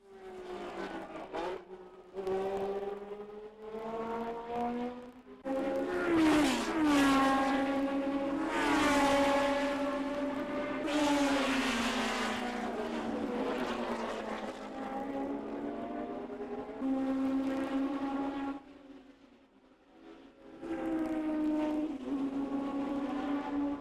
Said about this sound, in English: A 250 LMB, car number 26, being driven by Lulu Wong.